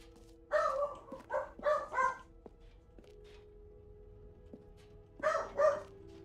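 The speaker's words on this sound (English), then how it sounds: "Peanut's barking at somebody." A dog named Peanut barks in two bursts, a quick run of several barks and then two more a few seconds later, moderately close in a quiet room.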